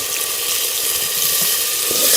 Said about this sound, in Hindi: मैं इसमें थोड़ा सा पानी शामिल कर लूँगी।